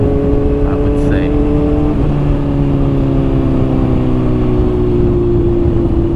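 A Honda CBR600RR sport motorcycle with a flashed ECU hums steadily at speed, the engine note sliding slowly lower under light engine braking, loud and continuous with wind rush, while a rider speaks over it.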